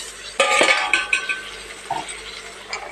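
Potatoes tumble into a cooking pan and are stirred, with a clatter of metal utensil against the pan, then lighter scraping and clinks, nearby and without voices.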